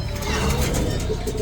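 Pigeons coo in low, throaty tones under a continuous broad background noise, close and fairly loud across the whole stretch.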